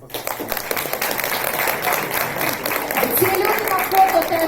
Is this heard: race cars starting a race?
no